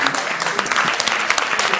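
Audience applauding at a Shabbat gathering, close, sharp individual claps in a brisk, uneven patter from a modest group, with some voices mixed in.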